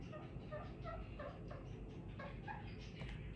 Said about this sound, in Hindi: एक नया तोता हमारा आ गया है